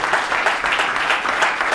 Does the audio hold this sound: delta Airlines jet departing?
no